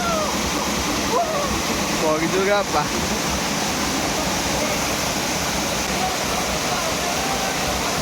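A waterfall roars close by in a steady, loud rush that fills the whole clip, while people talk and call out over it.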